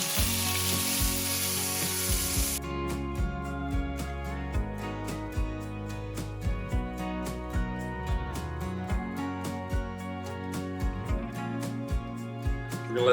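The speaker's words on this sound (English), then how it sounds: "Sear this in our olive oil." Goose meat searing in hot olive oil with juniper berries and garlic, a loud steady sizzle and crackle that continues throughout, with sharp regular ticks of stirring or utensil contact.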